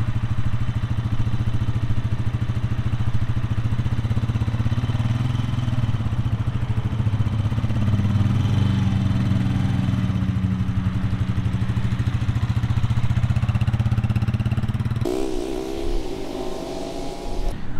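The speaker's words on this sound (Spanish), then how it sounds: "La onda es ir soltando el embrague y acelerando de a poco." Siam Trender 150 motorcycle pulling away as the clutch is released and the throttle opened, a steady close engine drone that rises slightly before a change near the end.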